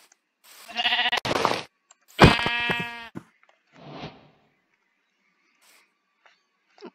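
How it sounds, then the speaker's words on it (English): Sheep in the video game Minecraft bleat in three short bursts, the middle call loudest and clearly harmonic, followed by quiet near-silence. "Oh, finally, sheep."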